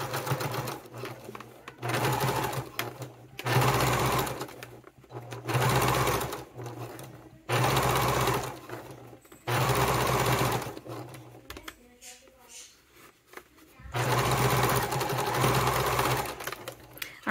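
A sewing machine top stitches a wallet with foam compartments, running in several loud bursts of steady stitching separated by short pauses, close up and heard alone.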